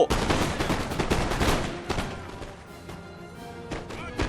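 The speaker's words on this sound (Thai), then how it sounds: "กองกำลัง รีโหลด พร้อมเลงยิง เอาเลย" Musket volleys crackle in the Total War: Napoleon video game, a dense rolling fusillade of overlapping shots that is loudest early and then thins into scattered distant pops.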